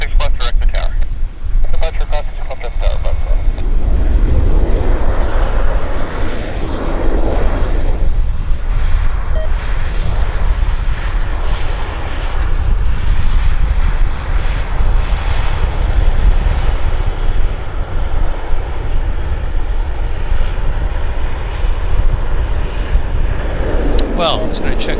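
A broad, continuous jet-engine roar from airplanes landing at Vancouver Airport at sunset fills the air steadily, loud and sustained for the whole stretch, with a faint voice in the background.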